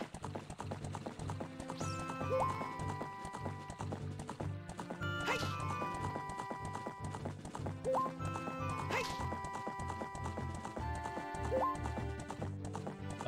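Horse hooves clip-clop steadily in Zelda: Ocarina of Time while the horse is ridden, an even galloping rhythm under constant background music with occasional bright accents.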